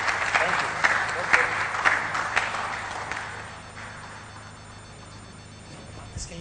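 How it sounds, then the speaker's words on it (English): An audience at a business summit gives a speaker a round of applause: dense clapping that starts strong, then thins and fades after a few seconds. "I think we need to give him a round of applause"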